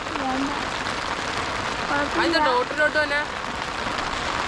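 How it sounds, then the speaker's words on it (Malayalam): Heavy rain falls in a steady wash across the whole stretch while a person talks over it partway through. "നല്ല തകർപ്പം മഴ"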